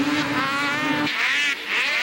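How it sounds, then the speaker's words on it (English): Snowmobile engines roar at the start of a 2001 WSA Pro Open snocross race at Valcourt; one steady high engine tone drops away abruptly and is followed by a rougher, surging engine noise. "the engines are up"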